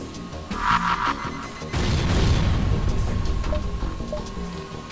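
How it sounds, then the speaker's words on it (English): Missile launch and blast from the spaceship game FTL: a short whooshing shot followed by a heavy low explosion that rumbles on for a few seconds, over soft synth game music. "Fire another missile."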